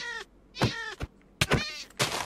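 A Minecraft game cat meows four times in quick succession, clear and close, with short gaps between the drawn-out cries and no talk over them.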